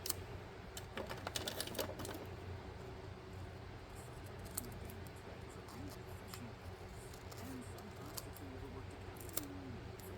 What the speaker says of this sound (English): Same thing, gonna cut that off, and that one.